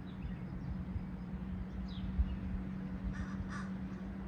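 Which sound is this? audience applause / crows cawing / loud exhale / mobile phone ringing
crows cawing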